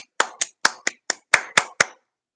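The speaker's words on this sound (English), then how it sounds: "a round of applause as I can give him in this time of need" Eight sharp, separate hand claps ring out alone at an uneven pace, close and crisp, before falling silent.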